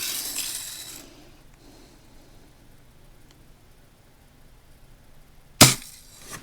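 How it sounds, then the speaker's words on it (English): A Daisy Red Ryder air rifle fires without a BB loaded. After a quiet stretch comes a single sharp, loud pop near the end, followed by a short fading rattle. "Now take our 1 bonus shot."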